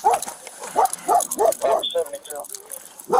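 A dog barks and whimpers in a house during a police scene, its short repeated yelps coming in a rhythm that mixes with shouted speech.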